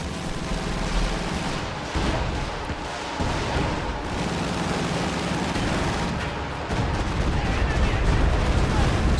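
Company of Heroes 2 battle with a dense, continuous roar of artillery shelling, explosions and gunfire, loud and layered throughout, with a voice talking faintly beneath.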